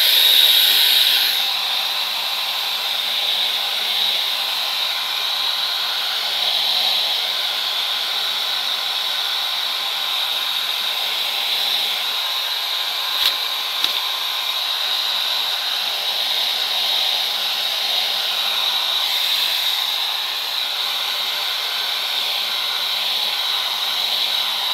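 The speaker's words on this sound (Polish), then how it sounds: "Ja podłączam teraz suszarkę." An electric hair dryer blows to dry a salted watercolour painting, a loud, steady hiss and whir that runs unbroken for over twenty seconds with no talk.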